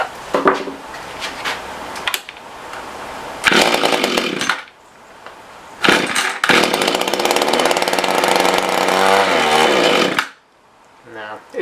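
A Mantis rototiller with a faulty carburetor roars in loud, close bursts that cut out repeatedly, the small two-stroke engine revving raggedly and dying several times before falling quiet.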